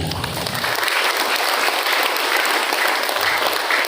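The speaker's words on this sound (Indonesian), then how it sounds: "Tepuk tangan untuk kita semuanya" Steady applause from an audience at a school career day motivational seminar in Bekasi fills the whole stretch, a dense wash of clapping with no voices over it.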